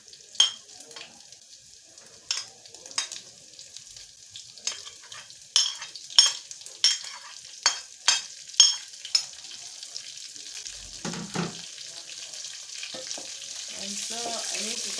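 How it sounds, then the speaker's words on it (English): Chopped onions sizzling in hot oil for a pork dry fry, with a regular series of sharp scraping stirs against the pan close by over a constant frying hiss, then a short pause and a brief rustle near the end. "And so I need to turn to make the onion get to oil so that it's fried."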